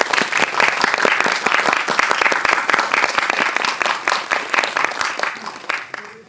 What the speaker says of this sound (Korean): 큰 박수로 전소희 배우를 환영해 주시기 바랍니다.